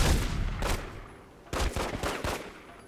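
Gunfire in The Godfather video game during a bank robbery: loud bursts of rapid shots in two clusters, a dense volley at the start and another flurry after a brief lull, sharp and close.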